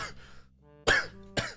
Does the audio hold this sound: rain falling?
no